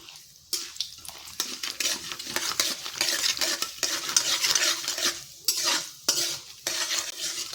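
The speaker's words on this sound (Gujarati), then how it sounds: "દાળને આપણે અહીંયા દસથી પંદર સેકન્ડ જેટલું સાતરી લઈશું" Urad and chana dal sautéing in hot ghee after mustard seeds have popped, with repeated scraping spoon strokes and crackling sizzle in uneven bursts, close and alone.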